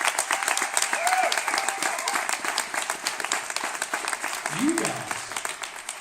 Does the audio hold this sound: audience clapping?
yes